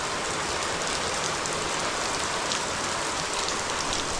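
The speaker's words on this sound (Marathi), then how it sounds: "पाऊस आला मोठा." A steady wash of heavy monsoon rain drums on village roof tiles, a loud, even roar that holds constant throughout without speech or pauses.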